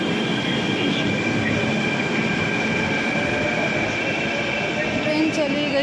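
A metro train pulling away from a station platform in Naigaon, a loud steady rumble of wheels and carriages with faint squeals, continuous and close for the whole stretch.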